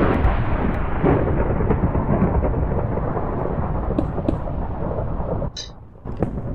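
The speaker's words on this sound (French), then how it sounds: "Oula, y'a de l'orage." Thunderstorm in the game Minecraft, a steady loud rumbling roar of thunder and rain that fills the whole stretch, with a brief dip near the end before the rumble resumes.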